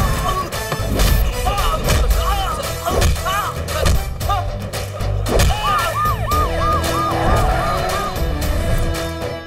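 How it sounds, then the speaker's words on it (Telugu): Police sirens wail across a city during a film's red-alert scene, their rising and falling tones layered over dense, loud background music and rumble for the full stretch. "నెక్స్ట్ 60 minutes సిటీ అంతా సైరన్తో మోతం మోగిపోద్ది."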